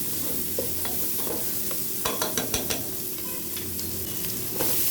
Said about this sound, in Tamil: ஒரு கொத்து கருவேப்பிலை, அப்புறம் தேவையான அளவு உப்பு சேர்த்துட்டு நம்ம வெங்காயத்தை இன்னும் கொஞ்சம் நேரம் வதக்கிக்கலாம்.